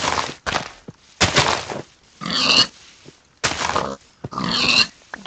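Pigs in Minecraft grunt in a string of short, close, moderately loud bursts, several in quick succession with brief gaps between them, and no talking alongside.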